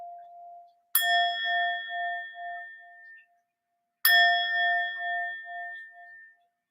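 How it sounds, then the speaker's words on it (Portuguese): A Tibetan singing bowl is struck twice, roughly three seconds apart; each strike gives a bright metallic ding followed by a sustained ringing tone that pulses and slowly fades, with no talking. "Eu não peguei o sino, então vou usar aqui a tigelinha."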